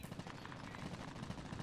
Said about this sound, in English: Gun battle going